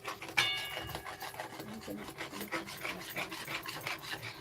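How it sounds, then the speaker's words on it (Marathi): Roasted wheat flour is stirred into sugar syrup in a pan for homemade wheat flour barfi, making a continuous close scraping and rubbing sound with a sharp tap near the start, with no talking. "भाजलेलं आपलं पीठ आता आपण यामध्ये टाकून घेऊया"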